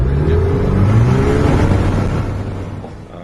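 Aerotrek light sport aircraft with a 100 horsepower engine revving for takeoff, a loud close droning whir whose pitch climbs and sweeps before gradually fading as it pulls away.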